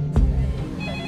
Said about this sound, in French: le téléphone à la réception sonne